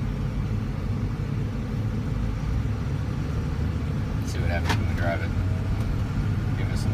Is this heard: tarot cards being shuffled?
no